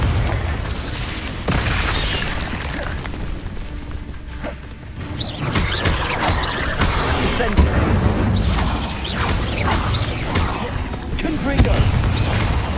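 Confringo explosive spells blasting in the video game Hogwarts Legacy, repeated loud booms and crashing impacts with whooshes in rapid combat, a voice shouting spell names over the action.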